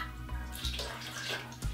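Water poured into gelli snow powder, a short soft gurgling pour, close and fairly quiet, with a couple of low thumps as the stream starts and stops.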